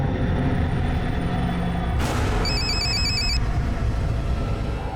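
A telephone rings partway through in short repeated electronic trills, fairly loud above a dense rumbling background bed that carries on throughout the scene.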